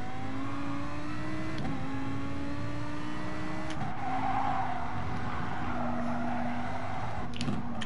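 An Audi R8 in a racing video game revs hard, its engine note climbing through gears while the tyres skid and squeal as the loose rear end slides, loud and close throughout.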